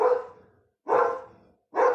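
Three loud, close dog barks arrive at a steady rhythm roughly a second apart, each a full, harsh bark fading out before the next, with no other sounds around them.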